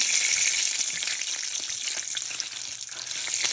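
Bacon sizzling in a pan for collard and mustard greens, a steady close crackling hiss with no talking.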